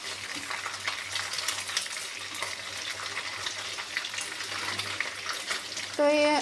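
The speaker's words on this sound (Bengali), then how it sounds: "এই তো আমার ভেজে নেওয়া প্রায় শেষের দিকে হালকা বাদামি খুব কড়া করে ভেজে নিব না" Chicken and bean seeds frying in a pan, a steady close sizzle running throughout with faint stirring clatter, then a brief bright tone near the end.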